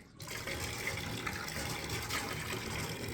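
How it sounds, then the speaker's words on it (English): Water pours steadily into a container, a continuous gushing flow that starts abruptly and keeps running at an even level throughout, fairly close and without speech. "I'm gonna pour a little bit in there."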